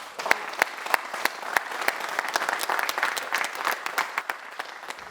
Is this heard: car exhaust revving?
no